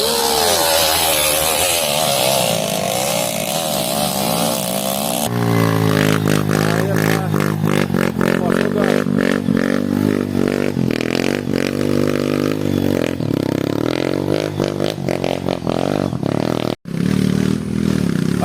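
A motorcycle climbs a slippery red dirt road in the rainy season in rural Lampung Barat, its engine loud and close, revving and straining continuously with a brief cutoff near the end.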